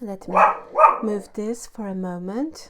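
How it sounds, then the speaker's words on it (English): A dog barks twice in quick succession at close range, then a person speaks over the quieter room. "I do apologize for my dog's barking."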